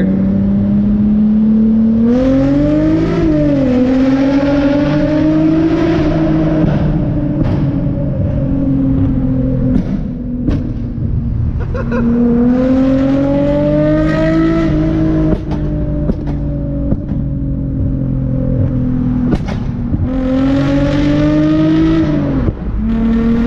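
Infiniti G35 with a Tomei exhaust accelerating through an underpass, a loud, close engine drone rising and falling through repeated pulls, with sharp pops and bangs crackling from the exhaust between revs.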